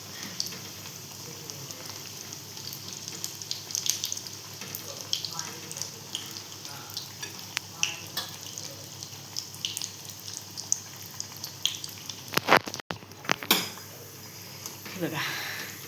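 Sweet potato snacks fry in hot oil with a steady faint sizzle and scattered crackles, plus occasional utensil clinks against the pan.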